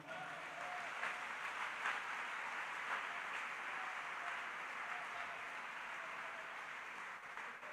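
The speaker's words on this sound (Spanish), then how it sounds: "¿Alguien quiere darle un aplauso fuerte al Señor?" A church congregation applauds loudly and steadily throughout, a dense, even wash of many hands clapping in a large room, with no break in the sound.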